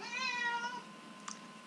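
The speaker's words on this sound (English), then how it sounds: "Forgive my cat." Pet cat meowing indoors, one drawn-out, wavering meow that fades, then a brief faint sound right after, close by with no talking over it.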